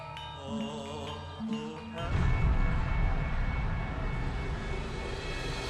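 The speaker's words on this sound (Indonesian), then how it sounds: "pesawat cocor merah, pasukan Belanda menembaki gedung-gedung dan jalan raya" Dutch red-nosed warplanes flying overhead as a sound effect, a steady roaring engine drone that swells in after a brief musical passage and holds loud to the end.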